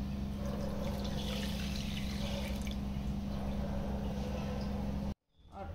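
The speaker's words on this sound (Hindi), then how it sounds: "ये 2 कटोरी मैंने इसमें पानी डाला।" Water poured steadily into sugar for homemade thandai, a continuous splashing, trickling pour lasting several seconds that stops abruptly near the end, with no speech.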